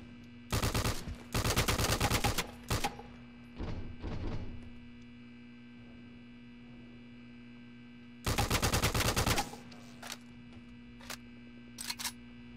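Sniper and automatic gunfire in Return to Castle Wolfenstein on the Train Yards level, with loud rapid bursts near the start and again around the middle, then a few sharp isolated shots.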